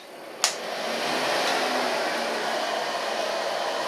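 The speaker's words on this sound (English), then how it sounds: "I'm gonna blow dry it with a medium brush." A hair dryer runs steadily while blow-drying hair with a medium round brush: a short click at switch-on, then a continuous, close, breathy whoosh throughout, with no talk.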